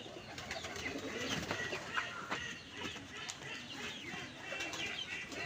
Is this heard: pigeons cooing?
yes